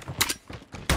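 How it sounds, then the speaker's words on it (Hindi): Rapid bursts of gunfire in a Call of Duty multiplayer free-for-all match on a firing range map, loud close shots in clusters with brief pauses between volleys. "लगातार शूट कर रहा हूँ मैं"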